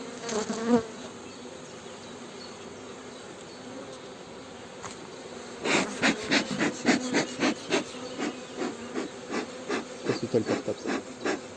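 Close-up buzzing of honey bees around a caged queen, a steady hum overlaid with busy scratching and rustling bursts that grow livelier partway through.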